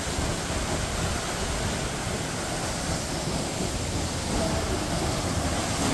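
A natural waterfall dropping from high up produces a constant, even rush of water, steady and moderately loud throughout with no talk.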